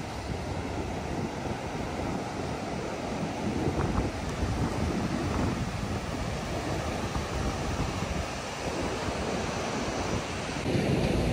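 Ocean surf rolling onto the shore on a calm, windless late-October day, a steady broad wash of breaking waves with no clear gaps, fairly loud and continuous throughout.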